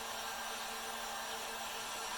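A heavy heat gun blows hot air in a steady, constant rush with a faint hum beneath, running unbroken and fairly close, used while making longleaf pine and epoxy forms with silicone molds.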